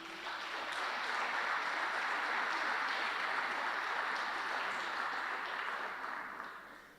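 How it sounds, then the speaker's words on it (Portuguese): Church congregation clapping during a sermon, a broad wash of sustained applause that swells in, holds steady for several seconds, then fades slightly at the end, heard from a distance in a large room. "Quem pode aplaudir o Senhor por isso?"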